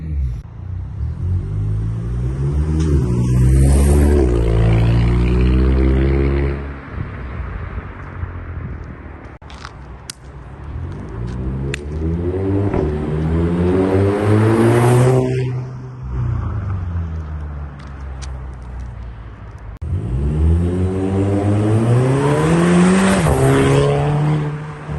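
A VW Mk6 Golf GTI with DSG gearbox and resonator delete revs repeatedly, its exhaust rising in loud droning pitch sweeps with quick crackling shifts, easing off between three separate pulls close by.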